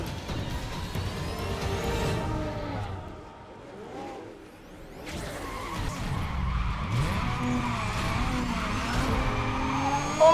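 A race car launches off the start line in the Need For Speed Carbon video game, with a loud, steady engine roar, rising revs and squealing tires that continue through the clip.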